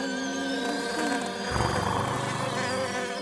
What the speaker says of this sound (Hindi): उस वक्त ऑडी एक मक्खी की वजह से डिस्ट्रैक्ट हो गया था।